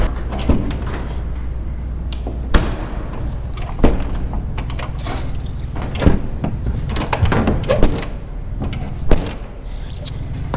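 A farm equipment cab door with a worn latch bangs shut several times, loud close thuds and metallic clunks over a steady low rumble, with no talk.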